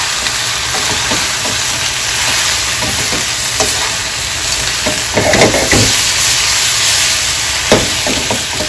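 Mushrooms seasoned with salt and pepper frying in a pan for a pork pepper steak sandwich, loud continuous sizzle with occasional stirring scrapes; no talking.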